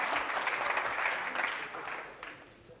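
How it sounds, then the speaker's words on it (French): Studio audience on a French TV show applauding a guest, a dense burst of clapping that fades out over a few seconds. "Applaudissements pour Dorian"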